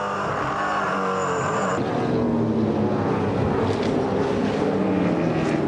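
V8 Supercars in 2006 race down the Pukekohe pit straight at around 250 km/h, one loud engine roaring past and dropping in pitch, followed by the rising whine of further cars approaching.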